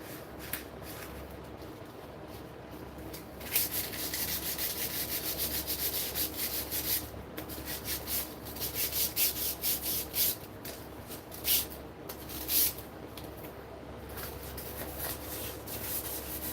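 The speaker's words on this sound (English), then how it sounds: "Got a little bit of, this might be overkill, 2000 grit sandpaper here." Someone sands by hand with 2000 grit sandpaper. The quiet, close rubbing comes in repeated back-and-forth strokes that grow slightly stronger partway through.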